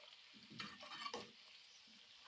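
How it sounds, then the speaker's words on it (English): Sesame oil cooking in a pan at home, a soft continuous sizzle with faint stirring scrapes and clinks, steady and close with no talking. "Cook the oil until it stops sizzling and the foam disappears from the top."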